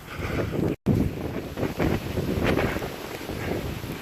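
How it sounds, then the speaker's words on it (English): Strong wind gusts buffet the microphone during a blizzard hike, a steady broadband roar that swells and eases. One brief dropout breaks it near the start. "The wind comes and goes in gusts now."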